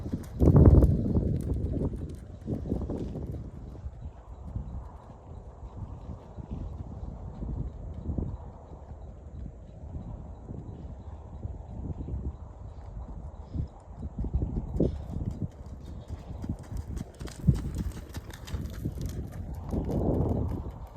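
Horse loping around an arena in training, its steady three-beat hoofbeats clip-clopping in a rhythmic cadence, fairly close and continuous for the whole stretch, with a brief whinny-like burst near the start and no talk.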